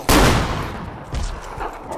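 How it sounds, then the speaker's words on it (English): A single sharp suppressed gunshot from a silenced gun in Arma 2 DayZ mod, loud and close, with a lingering rumbling tail and faint follow-up noise. "This is a silence gun. It's got a silencer on it."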